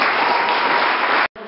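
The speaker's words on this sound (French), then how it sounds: "Il faut applaudir tout Yama Omoja." An audience claps at a Father's Day celebration held by a community association, producing a dense, steady burst of applause that cuts off abruptly near the end.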